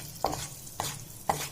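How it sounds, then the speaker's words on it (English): Asafoetida (hing) dropped into hot oil in a pan while tempering spices, heard as a soft sizzle with three crisp stirring clicks spaced about half a second apart. "Now the oil is heated. Add hing to it."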